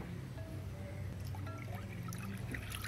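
Ice water poured into a watermelon drink, a faint continuous trickle and splash close by, steady throughout with a low background hum and no talking.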